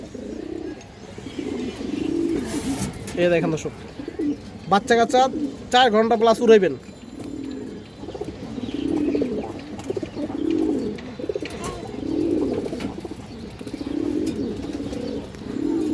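A Khoragola pigeon pair coos in low, rolling repeated phrases close by, heard under someone talking for the first part and then alone for the rest.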